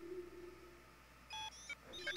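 Electronic beeps from the Nintendo 64 game Bomberman Hero: a few faint, short tonal bleeps over a low game hum, followed by a quicker flurry of chirpy beeps.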